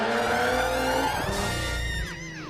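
Drift car at a Lone Star Drift round, screeching tires squealing hard over a loud revving engine that rises and falls, then drops away near the end.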